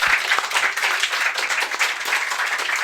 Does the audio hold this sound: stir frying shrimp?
no